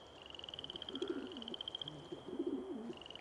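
Pigeon cooing in the SimPark video game, a soft repeated coo phrase heard twice in a low register over a steady high electronic tone, with no talk.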